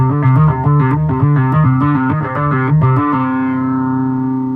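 A bass guitar plays a quick riff through cheap octave, distortion and envelope pedals, gritty and doubled, ending on a sustained ringing note.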